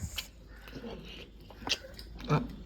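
Someone bites and chews meat on the bone, making a few close, moist crunching and gnawing bursts with pauses between them against a quiet room.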